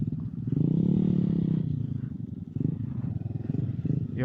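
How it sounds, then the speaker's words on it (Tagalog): XRM motorcycles riding a dirt trail past rice fields in Antique, Philippines, giving a steady, loud engine drone with wind rumble and a brief dip midway. "Yan, puro po kami XRM na motor."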